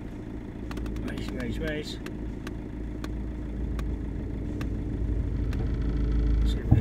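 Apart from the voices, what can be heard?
Land Rover Freelander engine idling in first gear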